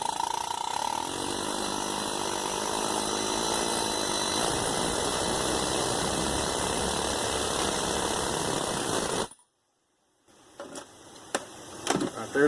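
A valve guide reamer works through the guides of a small block Chevy 400 cylinder head, giving a steady close mechanical grinding and ratcheting that runs continuously, stops abruptly, then returns as a few sharp clicks and taps.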